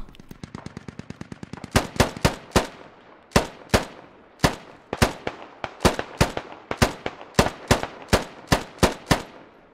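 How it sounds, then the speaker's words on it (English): Gunfire in the SquadOps video game operation opens with a fast automatic burst, then continues as loud, evenly spaced single shots cracking one after another with echoing tails, and no voices. "Polo takes a shot as he runs into the compound."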